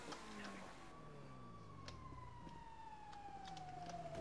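A fire engine siren in the video game GTA 5 wails continuously, a long tone slowly falling in pitch, moderately distant and fairly quiet, over faint game background noise with no talk.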